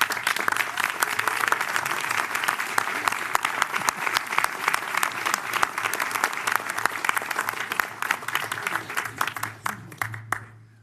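Attendees at the inaugural meeting of a public transit authority clap after a unanimous vote, a brisk, dense round of applause with distinct sharp claps that tapers off at the end.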